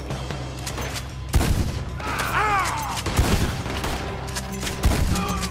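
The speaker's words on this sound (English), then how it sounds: "Looks like we're shooting our way out of here," Scattered gunshots crack out in a Red Dead Redemption 2 shootout, a few sharp bangs spaced over a few seconds amid a busy background with some brief voices.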